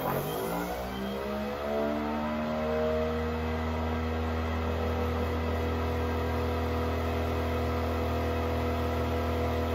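A motor spinning a set of magnets spools up, its loud whining hum rising in pitch before it settles into a steady, even drone that runs alone without pause.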